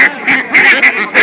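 Belgian and native ducks quack loudly and repeatedly at a crowded duck market, several close calls overlapping in quick bursts.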